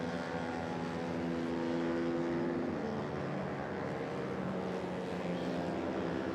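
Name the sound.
constant drone of motorcycle racing engines on track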